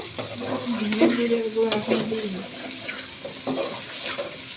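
Chicken with vegetables is stir-fried in a pan, giving a close sizzle with scraping stirs, while a voice talks softly over it for the first half.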